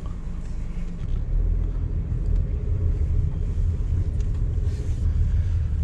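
A Suzuki Hustler drives on a road in Hokkaido, heard from inside the cabin as a steady low rumble of engine and road noise with no talking.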